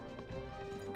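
Horse hooves clip-clopping in the Rise of Nations strategy game, a brief steady run of hoofbeats under game music and ambient battle noise.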